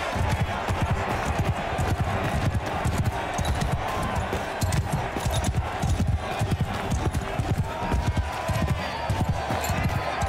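Horse hooves clip-clop steadily through a busy video game soundscape, with dense rhythmic hoofbeats under excited talk and other game noise throughout.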